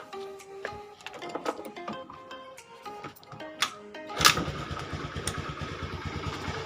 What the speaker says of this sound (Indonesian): Nah ini kita cek kalau kita engkol sekarang lur.